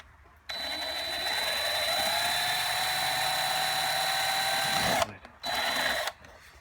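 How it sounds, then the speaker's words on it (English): A hex head bolt being drilled out with a 5/32 bit, a steady high-pitched whine of the drill running continuously for several seconds, stopping briefly, then a short second burst. "I'm going to go ahead and drill that out very slowly going outward"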